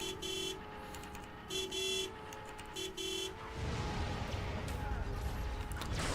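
A vehicle horn in the video game SWTOR honks in a series of short, repeated toots, some single and some doubled, over a low engine hum, then gives way to a rougher rumble.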